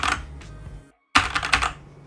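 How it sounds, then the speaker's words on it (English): Typing on a computer keyboard during a writing livestream: two quick bursts of crisp, close key clicks split by a brief silence, loud and clear with no voice. "I guess I can give you guys typing noises if you want."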